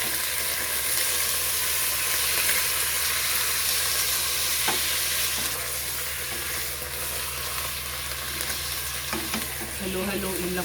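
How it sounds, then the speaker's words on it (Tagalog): Ground pork sizzles steadily in hot oil in a pan while it is stirred, with a dense, continuous frying hiss and occasional scraping clinks. A voice briefly joins near the end. "Then, ilalagay na natin ang ating pork giniling."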